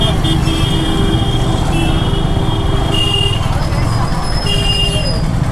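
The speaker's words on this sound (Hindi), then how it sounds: "क्योंकि बहुत ट्रैफिक है भाई" Dense city road traffic in a busy main city, heard from a motorbike stuck in a jam: a steady, loud wash of engines and road rumble with thin horn-like tones and background voices throughout.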